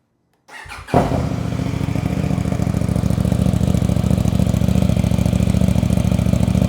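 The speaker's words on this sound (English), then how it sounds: "let me do a cold start for you guys real quick" A 2026 KTM 990 RC R motorcycle cold-starts close by: a brief crank, then the engine catches with a sharp burst and settles into a loud, steady, rapidly pulsing idle that continues to the end.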